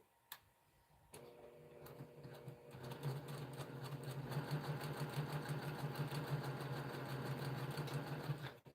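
A sewing machine stitches a pressed flower quilt block, its motor whirring in a steady, rapid ticking run that starts after a couple of brief clicks and holds loud and close for most of the stretch.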